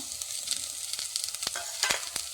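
Chopped green chillies hit hot oil in a pan for a Kerala chakka theeyal, giving a steady close sizzle broken by a few sharp crackles and spits, with no talk.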